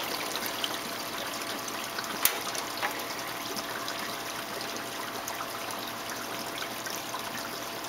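Water draining out of a Santa Monica 100 pool scrubber after its pump is unplugged: a faint, steady trickle and flow with a soft click partway through, with no talking.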